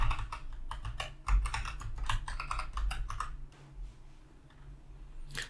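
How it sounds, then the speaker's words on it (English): Rapid keystrokes on a computer keyboard as a terraform apply command is typed, a close, dense run of clicks for about four seconds, then a pause and one last keypress. "The next command which you need to run is terraform apply."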